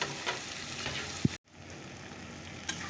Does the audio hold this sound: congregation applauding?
no